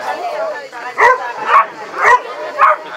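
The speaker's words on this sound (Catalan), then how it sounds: "És un gos caçador" A hunting dog at an agility exhibition gives a run of sharp barks and yips, four distinct bursts in quick rhythm amid whimpering sounds, close by.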